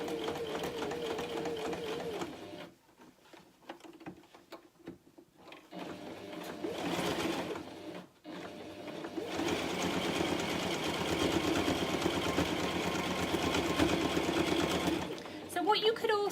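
A domestic sewing machine stitches rick-rack trim onto a fabric pencil roll, its busy mechanical whir starting and stopping in runs, close up, with a voice talking over parts of it.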